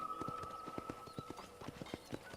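Galloping hooves of a sorrel horse in the Western video game Red Dead, a steady rapid clip-clop rhythm of close hoofbeats running continuously over a bright sustained tone.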